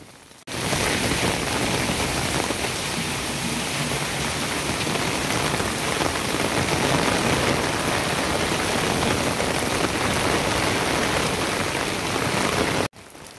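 Heavy rain pours down hard, making a dense, steady roar of drops on surfaces close by. It stays constant with no talk and cuts off abruptly near the end.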